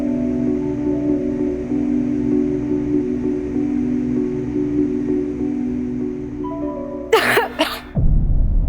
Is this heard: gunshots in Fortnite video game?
no